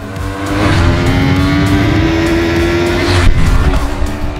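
2024 Yamaha R3 motorcycle engine revving: a loud, sustained high-pitched buzz holding steady for several seconds, with slight surges near the end.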